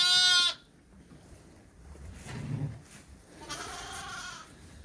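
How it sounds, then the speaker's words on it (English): A pet sheep in a barn bleats loudly once up close at the start, followed by quieter shuffling and a fainter second bleat in the background. "And there's Lynn's pet sheep."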